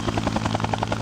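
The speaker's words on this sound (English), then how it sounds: "This type of helicopter you can pick up from miles away, and you can actually distinguish every helicopter that's in the air." Helicopter rotor chop, a steady rapid thumping pulse heard up close and fairly loud for about a second.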